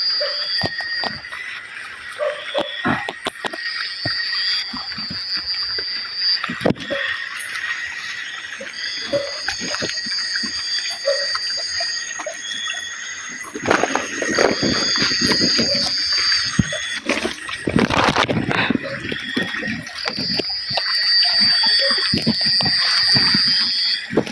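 River water flowing steadily in a forest at night, a continuous rushing wash throughout with insects chirping above it, growing somewhat louder in the second half.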